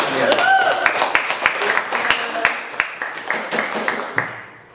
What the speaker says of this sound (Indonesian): tepuk tangan anak sekalian.